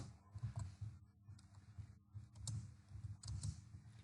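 Someone types text into a SolidWorks drawing note on a computer keyboard, giving soft clusters of key clicks in short bursts with small pauses, quiet and close.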